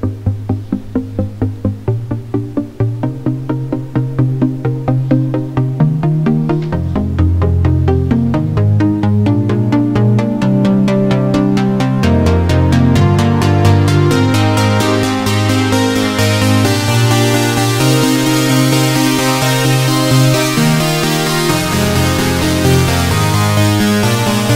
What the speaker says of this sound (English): how to make a progressive house Pluck synth